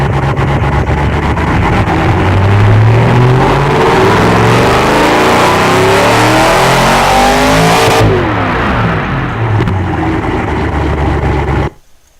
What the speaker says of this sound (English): The engine sounds in this game are just so amazing.